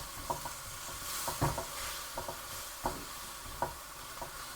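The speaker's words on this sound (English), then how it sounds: "I'm just going to toss it around a little bit, make sure that all this veg soaks up all that mixture" Prawn noodle stir-fry vegetables tossed in a sizzling pan with a sauce mixture. A faint, low sizzle runs under a handful of soft, irregular scrapes and clatters from the tossing.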